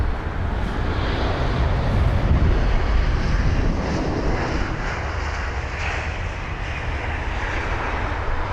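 Gulf Air flight GF3, an airliner at London Heathrow, gives a continuous mid-distance engine rumble with some wind buffeting the microphone, steady throughout and free of speech.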